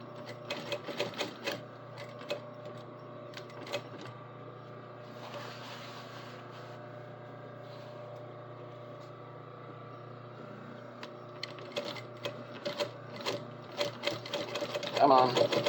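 Sewing machine stitching the back pockets of a garment, a low steady hum with faint intermittent needle rattles and clicks, quiet and continuous throughout.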